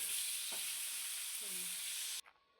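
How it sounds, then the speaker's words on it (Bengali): Salt-and-turmeric-coated aar fish pieces fry in hot mustard oil with a loud, close, continuous sizzle, a few utensil taps and scrapes in between, before the hiss drops away sharply near the end. "তেল গরম হলে তাতে নুন হলুদ মাখা আর মাছগুলো দিয়ে দেবো"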